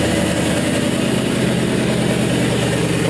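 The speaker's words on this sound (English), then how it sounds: "So I'm gonna hit my fuel pump and my starter." A 5.3-litre LS V8 with about 100k miles fires up on a turn-key package and settles into a loud, steady, rumbling idle that fills the whole stretch, with no talking over it.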